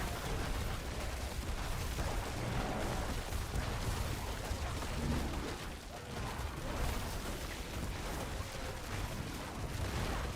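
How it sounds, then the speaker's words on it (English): Cascading explosions in the video game Diablo 4 during druid play, a dense, continuous barrage of overlapping bursts and rumbles that stays loud throughout with a brief dip midway. "cascade explosion when there's a lot of them next to each other is sick"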